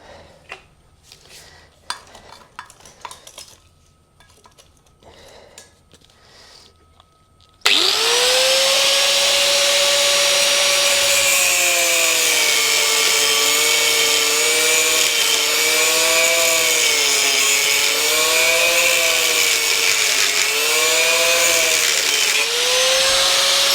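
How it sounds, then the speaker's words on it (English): A grinder cuts a metal tab off a Suzuki VL250 motorcycle, then a flap disc grinds it flat: after quiet handling noises, a loud, continuous high-pitched whine starts abruptly and holds, its pitch wavering as the load changes. "I will just cut this one off and then I'll use the flap disc to bring that"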